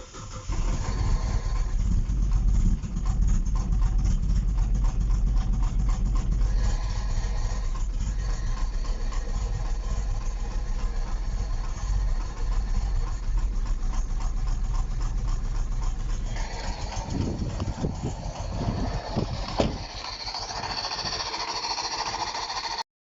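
A General Motors car engine runs rough with a spark plug misfire, giving a loud, close, uneven chugging idle with rapid irregular pulses that lasts most of the way, then loosens and changes near the end.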